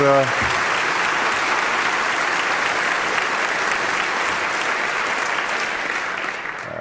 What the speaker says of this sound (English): Can everybody please give Michael a big round of applause?